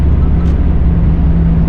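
A Toyota Supra pulls hard at speed, a loud, dense, continuous engine and road roar heard from inside the car, holding steady throughout with no voices.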